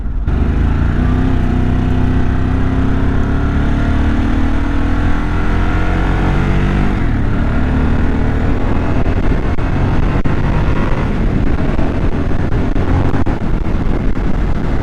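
A 2023 Harley-Davidson Sportster S motorcycle with a Revolution Max engine drones steadily throughout, with rising harmonic whine early on as it revs, then a rougher, continuous rumble; loud and close.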